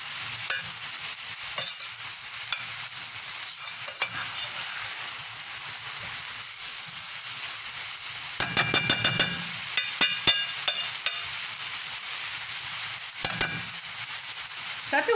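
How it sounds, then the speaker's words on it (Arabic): Onion and garlic fry in a pan with a steady soft sizzle, and a few sharp stirring and clanking strokes break through at intervals, with no talking over it. "المهم انتم كتشوفوا العناصر غتقلى ليا مزيان"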